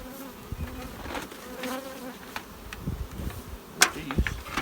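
Honey bees bearding in a dense mass outside a hive during a honey flow, a steady low buzzing drone close by with a few sharper passing wingbeats and light clicks, no voices.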